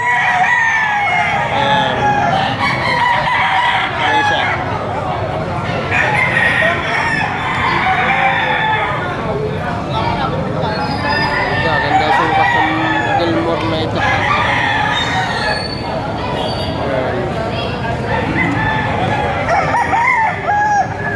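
Gilmore gamefowl roosters crow repeatedly in a busy rooster yard, with overlapping loud cock-a-doodle-doos and clucking throughout and people talking in the background.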